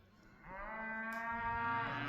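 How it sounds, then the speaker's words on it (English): A single long, drawn-out cow moo from free-roaming cattle on a cross-country trail, fairly close and clear, rising into a steady bellow and holding for a couple of seconds. "You can hear them all mooing."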